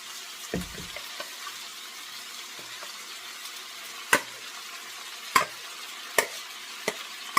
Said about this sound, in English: now I'm going to start adding my ground beef in here. And I want to let that cook